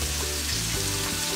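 Corn kernels tipped into a hot frying pan crackle and sizzle in a steady, dense hiss that stays even throughout, close up and without talk.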